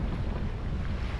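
Ocean waves wash around a sailboat on the Atlantic, with steady low rumbling water and wind buffeting close to the microphone, continuous and loud throughout.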